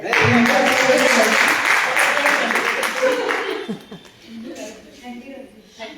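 An audience at a Marathi ghazal mushaira claps in a dense burst for about three seconds, then the applause thins and fades as a voice talks.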